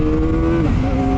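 A 2024 Kawasaki Ninja 400RR, a 400cc sport bike, revs hard under way with a loud, steady engine drone whose pitch dips briefly as the quick shifter clicks up a gear, then climbs again.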